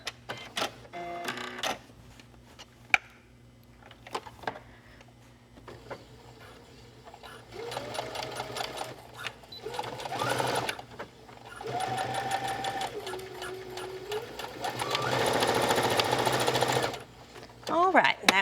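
A home sewing machine running in bursts while back stitching a bag seam, its motor whirring and needle chattering, with pauses and talking in between.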